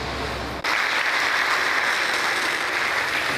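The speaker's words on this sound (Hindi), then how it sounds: "आप लोगों ने तालियां क्यों बजाई?" Audience applause fills an auditorium at a memory management programme in Hardoi, a steady dense wash of many hands clapping that starts abruptly and carries on loud and unbroken.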